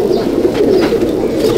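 Pigeons of the Madrasi breed cooing inside a loft, a continuous low throaty rolling coo, close and loud, with no talk.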